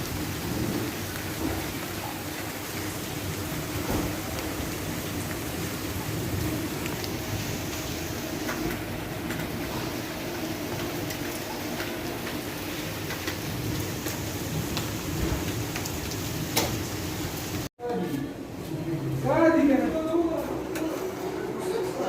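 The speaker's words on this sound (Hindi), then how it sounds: "बहुत तेज बारिश स्टार्ट है, किस तरह खाना लाएंगे भाई?" Heavy rain with thunder, a dense steady downpour with low rumbles running throughout; near the end it briefly cuts out and comes back, and people talk under the storm.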